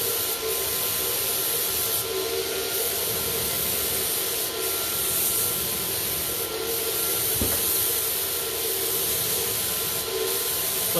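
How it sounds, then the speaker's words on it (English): A vacuum cleaner runs indoors with a steady, even hiss and whir that stays at a constant moderate level, broken only by a few faint clicks. "I guess that would be me vacuuming"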